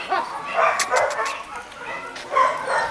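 A female dog makes a few short yipping barks and whimpers close by, with a person's voice mixed in.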